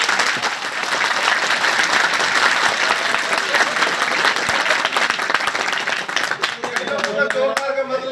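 A college audience at a comedy show by a performer playing a traffic police officer bursts into loud, sustained applause and clapping that fills the whole stretch, with voices rising near the end.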